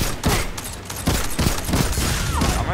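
Rapid bursts of gunfire from a Destiny 2 Crucible match, dense and loud, with several sharp shots punching through continuous fire across the whole stretch.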